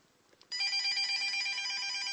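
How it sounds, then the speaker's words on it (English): A telephone bell starts ringing abruptly after a quiet moment, a loud, steady, bright metallic trill that continues unbroken. "And the phone rings, so I'll be back later."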